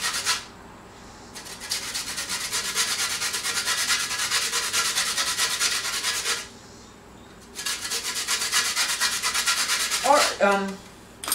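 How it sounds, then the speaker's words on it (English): Orange peel is zested with a zester in two long bouts of brisk, continuous scraping, loud and close. A short pause separates them, and a faint clink follows near the end. "we will zest up a little bit of the orange"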